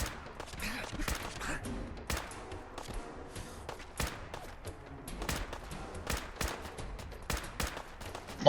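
Rapid bursts of video game gunfire, sharp cracks scattered in quick irregular volleys across the stretch, fairly quiet overall, with no voices over them.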